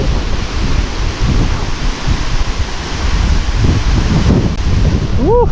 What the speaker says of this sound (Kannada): ಜಸ್ಟ್ ಸುಮ್ ಸೌಂಡ್ ಕೇಳ್ರಿ ನೀರಿನ ಹೆಂಗೈತೆ